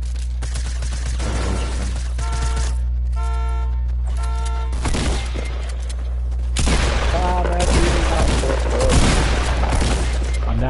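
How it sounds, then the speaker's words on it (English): Rapid gunfire and booming grenade explosions in a multiplayer shooter game, sharp bursts and heavy blasts layered over a steady low hum, with players talking over the action. "That's me throwing grenades, boys."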